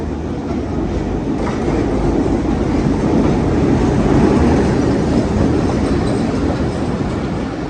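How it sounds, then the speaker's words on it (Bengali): A passenger train rolls into a station in Bangladesh on a trip toward Gopalganj, a steady, loud rumble with rhythmic clickety-clack of wheels over rail joints sustained throughout, no voices. "6টা 18 বাজে ট্রেন স্টেশনে ঢুকলো"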